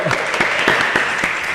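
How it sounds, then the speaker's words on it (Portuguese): A brief burst of audience applause welcomes Eliete and Abigail to a podcast auditorium, steady clapping with a few distinct sharp claps standing out. "Uma salva de palmas aí, ajuda a gente aí"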